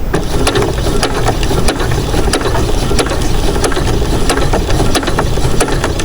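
A sewing machine stitches a quilt, heard as a loud, close, continuous mechanical whir with rapid ticking clatter from the moving parts, with no voice over it.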